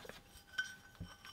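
Glass cover of a cheap bulkhead light fitting clinking as it is handled, with a few light, sharp taps spread across a quiet moment, close and faint.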